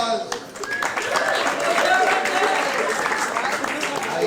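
A crowd claps for comedian Randy Levin at a stand-up comedy show, dense continuous applause that swells after a brief dip and stays loud, with scattered voices mixed in.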